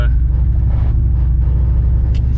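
Budget turbocharged pickup truck driving, a loud constant low engine rumble and road drone with rattling from the cabin, heard from inside while people talk.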